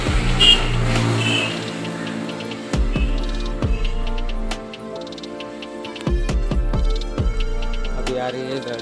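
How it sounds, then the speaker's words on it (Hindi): A vehicle on a village road approaches with its engine running, a loud chugging drone broken by repeated sharp mechanical ticks and knocks that recur through the whole stretch. "अभी आ रही है गाड़ी"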